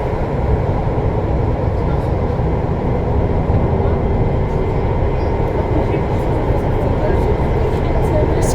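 A VAL 208 NG2 driverless metro train on Line B between stops, with a loud, steady rolling rumble and hum throughout and faint higher ticks over it.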